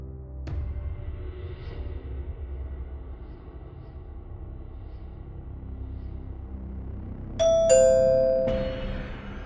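A doorbell rings with a bright two-tone ding-dong chime, sounding once clearly over a low rumbling room background with no talking.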